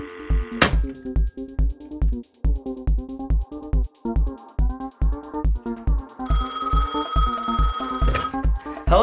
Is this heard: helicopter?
no